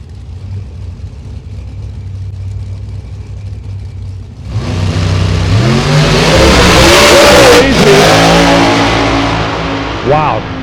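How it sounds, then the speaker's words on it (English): A drag racing car launches at a Gainesville drag strip, spinning its tires hard, with a sudden loud roar of engine and tire noise cutting in over quieter crowd and track ambience and rising and shifting in pitch as the car pulls away. "Toulis just lit the tires up and the car hung a left"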